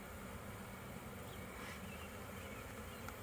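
Honeybees buzzing around an opened beehive with comb built up between the frames, a faint continuous hum of many insects filling the space evenly, with no speech.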